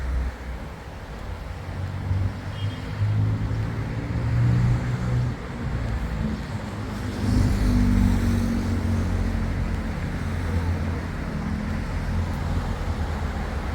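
Steady wind gusting and buffeting across the microphone outdoors in Jerusalem, a low rushing roar that swells and eases over several seconds.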